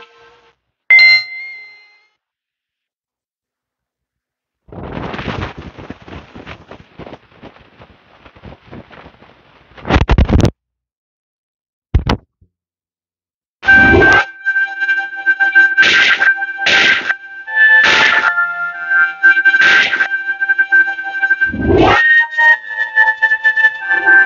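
Tomb Raider for the Game Boy Advance playing on a Nintendo DS Lite, captured straight from the headphone jack: bright chiming tones and short bursts separated by silent gaps, then a steady run of ringing notes and clicks, clean and close with no voices.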